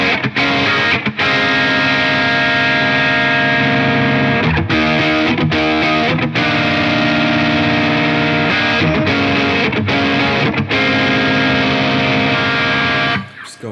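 Electric guitar through an overdrive pedal at a low gain setting, strummed chords ringing with mild grit and a few brief pauses, steady and loud throughout.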